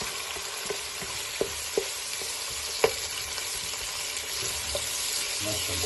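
Onions frying in a pan for egg fried biryani as tomatoes go in: a steady broad sizzle runs throughout, with a few sharp clinks of a spoon against the pan, while a voice speaks briefly.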